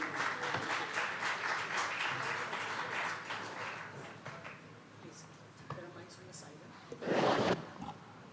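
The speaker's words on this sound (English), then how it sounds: "Ladies and gentlemen, a round of applause for our father-daughter combination" At a leadership summit, an audience claps for a father-daughter pair of guests, a moderate round of applause that fades after a few seconds into a quieter hall with scattered sounds and a short, sharp rustling burst near the end.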